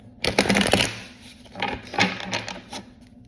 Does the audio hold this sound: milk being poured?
no